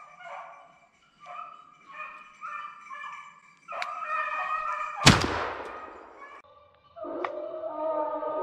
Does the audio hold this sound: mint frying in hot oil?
no